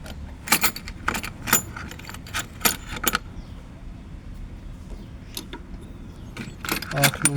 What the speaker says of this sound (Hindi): आठ नौ की चाबी लगेगी इसमें।